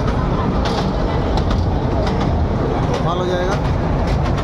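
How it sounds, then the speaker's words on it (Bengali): A toy train running toward Elephanta Caves near Mumbai rattles continuously with a steady clickety-clack and rumble, loud and close, while people talk nearby and birds chirp faintly. "আর এখানে টয় ট্রেনে করে যাচ্ছি"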